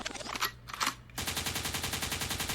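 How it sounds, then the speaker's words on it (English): Gunshot sound effect dropped into a DJ mix, a sharp burst followed by a dense, rapid rattle of repeated shots layered over pulsing music, loud and continuous to the end. "the gunshot means forward"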